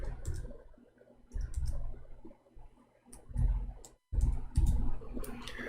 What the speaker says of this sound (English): Oh boy, I'm typing in English again.